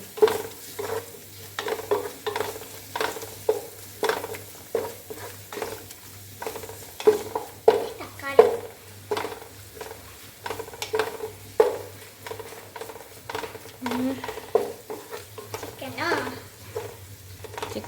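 Garlic and ginger frying in oil in a pan for a prawn biryani, with repeated scraping stirs at an uneven rhythm over a soft sizzle, close up, as voices talk intermittently in the background.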